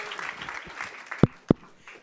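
Audience applause at a Cannes 2022 masterclass with Mads Mikkelsen: a soft, steady patter of clapping, broken by two sharp, loud thumps near the end.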